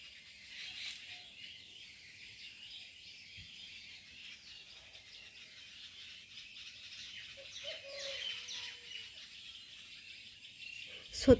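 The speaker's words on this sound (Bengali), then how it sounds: "আর এইদিকে সন্ধ্যাবেলায় তোমরা পাখির আওয়াজটা শুধু একটু শোনো।" Birds calling at dusk, with scattered chirps and tweets over a steady high insect hum, mostly faint and distant, with a brief louder sound right at the end.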